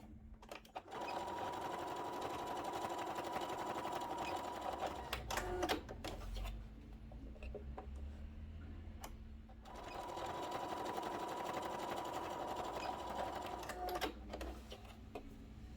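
Sewing machine stitching a fabric pouch, running in steady buzzing bursts with a brief pause in the middle, close and fairly quiet, no talking.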